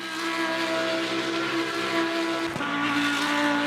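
Race car engine in Le Mans Ultimate, heard loud and steady with strong engine harmonics throughout, then a sudden pitch drop and recovery near the end that marks a gear shift.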